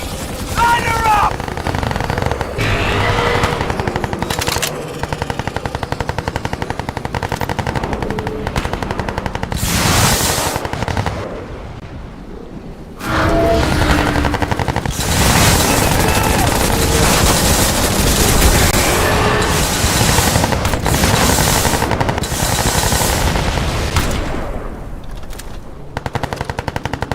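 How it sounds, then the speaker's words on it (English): A gunship attack in a video game brings nearly continuous loud machine-gun fire with heavy bursts and booming impacts, briefly dropping away before the barrage resumes, with voices shouting underneath. "Heads up! Gunship incoming!"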